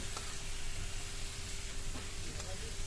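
Chicken pieces sizzle and fry in hot oil in a pan while being stirred, a dense, continuous close hiss with a few faint scraping touches throughout.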